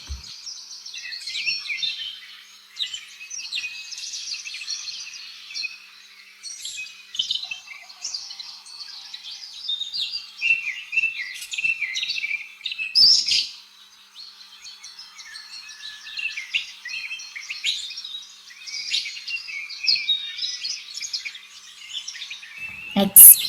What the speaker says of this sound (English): W for woodpecker.